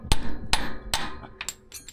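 A hammer strikes the steering clutch of a John Deere 450B crawler near a snap ring, giving about seven sharp, close metallic blows. The first few are evenly spaced, and the later ones come quicker and more irregular.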